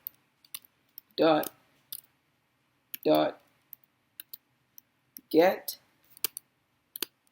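Keys on a computer keyboard tap out code for a Unity W, A, S, D player-control script. Sparse, crisp single clicks are scattered between stretches of a man's nearby speech.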